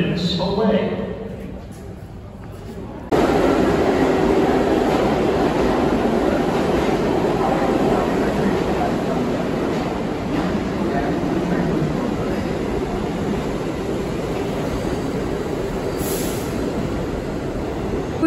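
A New York subway train rumbles along with a steady, loud roar of wheels and carriage noise after a quieter opening, a thin high squeal running over it and a voice talking under the din.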